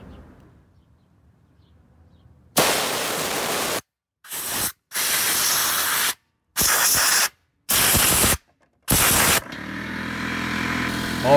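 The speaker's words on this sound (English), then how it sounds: "you definitely gotta get yourself an air compressor. Makes cleanup super easy." Air compressor blows dirt off a vintage Kyosho Raider RC car in loud hissing bursts, one long blast followed by several short, evenly spaced sprays separated by brief silences.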